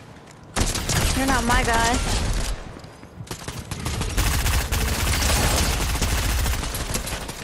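Rapid video-game gunfire rattles in dense automatic bursts after a brief pause, loud and close, with someone speaking over part of it.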